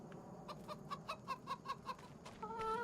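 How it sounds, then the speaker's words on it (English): Chickens in Farming Simulator 25 give a quick series of about eight soft, evenly spaced clucks at close range, followed by a rising, drawn-out squawk at the end, with no talking. "we have our chickens, which already have some eggs spawning here"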